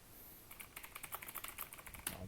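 Light, rapid keystrokes on a computer keyboard, a short burst of quiet, close clicking with no voices.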